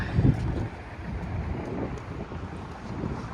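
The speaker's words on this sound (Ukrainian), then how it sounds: "почався дуже сильний вітер і мене здуває вітром просто" Strong wind buffets the microphone in a continuous low roar in central Dublin, Ireland, gusting hardest at the start and then rumbling on steadily.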